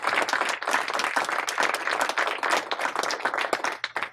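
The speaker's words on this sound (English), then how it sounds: "I'd like to give them a round of applause" Audience at an arts café event breaks into applause, a dense continuous burst of many hands clapping nearby, fairly loud and even for several seconds with no talk over it.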